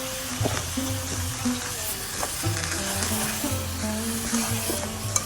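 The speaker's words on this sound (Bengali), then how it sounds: "এখন আমি ধুয়ে রাখা সবজিগুলো দিয়ে দিব।" Washed vegetables tumble into a spice paste frying in oil in a pan, a steady close sizzle with scraping stirs and soft knocks throughout, no voices.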